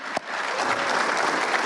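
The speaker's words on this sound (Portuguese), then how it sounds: "Palmas para o ministro Fux." A crowd breaks into applause for minister Fux, beginning with one sharp clap and settling into a brief, dense, even round of clapping.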